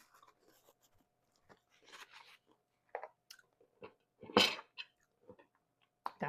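Several sharp, close crunches come from biting into a tostada topped with lemon pepper chicken salad, irregular bites and chewing in an otherwise quiet room.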